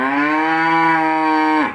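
A single sustained cow moo, loud and close, holding a steady rich tone for over a second before tapering off abruptly.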